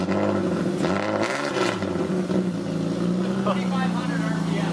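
A BMW E36 engine with no muffler revs loudly, a raw, droning exhaust roar that swells and then settles into a steady rumble, close and continuous, with voices faintly mixed in.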